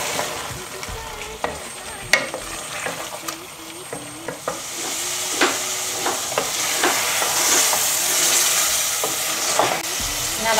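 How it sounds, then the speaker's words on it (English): Lamb bhuna sauce with spices and oil is stirred in a pan, a spoon scraping and knocking in irregular strokes over a low simmering sizzle that grows louder and hissier toward the end. "Just keep stirring."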